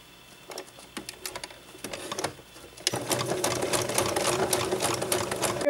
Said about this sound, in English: we're gonna zigzag the elastic together